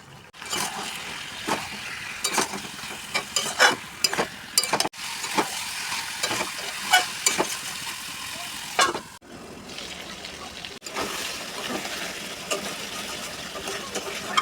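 Chicken curry meat cooking down with garlic, turmeric, coriander and chilli powder in a pan, with a moderate sizzle and repeated stirring scrapes that pause and resume through the clip.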